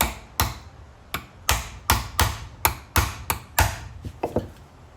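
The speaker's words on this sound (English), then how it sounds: "sort of hammer it in" A part being hammered into a Toyota Celica door handle on a table, about a dozen sharp, evenly spaced metallic-wooden knocks, close and loud, with no talking.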